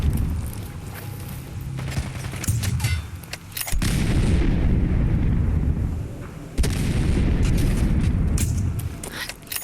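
Grenade launcher blasts and gunfire boom in the video game Fallout 4 during a firefight with gunners. Several heavy, loud explosions with long rumbling tails come one after another, mixed with sharper shots.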